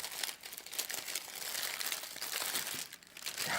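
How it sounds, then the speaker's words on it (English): Crinkling plastic wrapper being pulled open around a small individually wrapped mini slider, a continuous close rustle and crunch with no talk. "Let me just unwrap one of these real quick."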